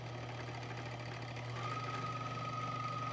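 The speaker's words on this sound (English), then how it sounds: "The bobbin winder will stop automatically once the bobbin is full." Sewing machine bobbin winder spinning thread onto a bobbin, a steady low motor hum with a thin whine rising partway through, faint and continuous with no voices.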